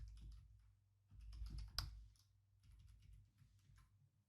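Quiet, close keystrokes on a computer keyboard tap out a password in two short clusters of typing, with one sharper click in the middle.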